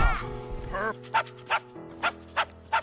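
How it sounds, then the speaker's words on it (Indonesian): Dog barking in the animated film The Secret Life of Pets: a short voiced yelp at the start, then five sharp, evenly spaced barks, close and clear, with no speech. "karena cuma terdengar guk-guk, Max pun disuruh keluar"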